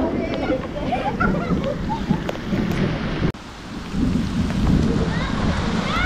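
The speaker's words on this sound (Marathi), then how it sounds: "विजांचा कडकडाट बघा एक नंबर होतोय" Heavy monsoon rain pours steadily in coastal Konkan while thunder rumbles and cracks, the downpour loud and continuous and broken only by a brief sudden drop.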